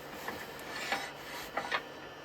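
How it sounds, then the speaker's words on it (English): Spindle gouge cutting resin on a wood lathe, a quiet continuous rasping scrape with a few brief louder bursts of cutting, no talk. "So I should take that a little bit deeper first with the spindle gouge"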